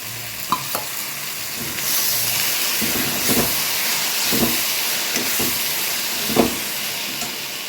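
Ginger, garlic and green chilli paste sizzles loudly in a frying pan of browned onions while mutton kosha is being cooked, with a steady hiss broken by stirring clatters and occasional louder pops.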